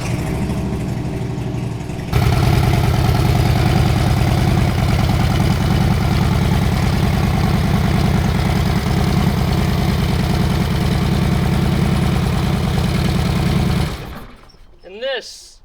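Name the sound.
2013 Harley-Davidson Road King motorcycle engine idling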